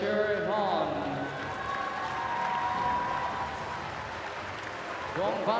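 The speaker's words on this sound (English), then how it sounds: "Ladies and gentlemen, let's cheer him on." A large indoor crowd at a para swimming race at the ASEAN Para Games applauds and cheers in a steady, dense wash of clapping, with a voice briefly audible over it.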